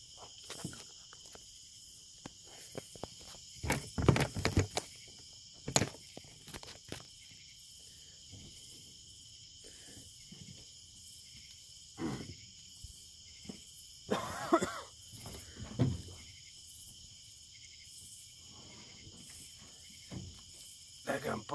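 Insects chirp in a steady high-pitched chorus outdoors at night during catfish fishing, and scattered nearby bumps, handling noises and a few brief coughs or voice sounds break through now and then.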